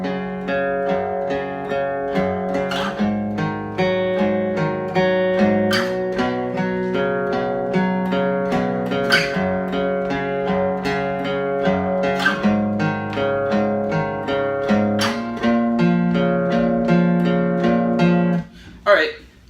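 An electric guitar picks through chords slowly and deliberately, each ringing note plucked in sequence with sustained harmonics, clear and close, ending with a brief stop and one last strum.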